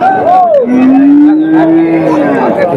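Several loud, close cattle moos at a livestock market, one long drawn-out low call overlapping higher bellows, with no talk.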